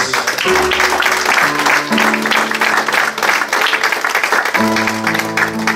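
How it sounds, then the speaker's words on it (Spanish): A church congregation applauds Jesus during a sermon, a dense, steady patter of clapping spread across the room, mixed with sustained keyboard or organ chords that shift partway through. "Denle un aplauso a Jesús"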